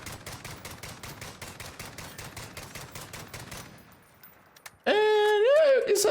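An SKS semi-automatic rifle in Call of Duty Warzone fires a rapid run of sharp hipfire shots, each crack following closely on the last, before the shooting stops and a loud tonal game sound cuts in at the end.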